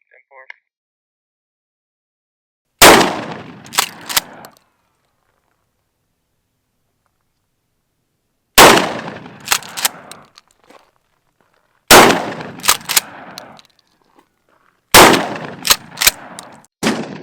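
A 12 gauge shotgun fired outdoors in four separate loud blasts spaced several seconds apart, each sharp report followed by short echoing decay, with silence between shots.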